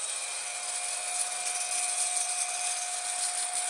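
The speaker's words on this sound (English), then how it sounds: "The spindle has now continued rotating for more than 1 minute." A small machine-tool spindle with a belt drive coasts down after power-off on nanoliter lubrication, giving a steady high whine with fixed tonal lines and faint hiss, continuous and even, with no voices.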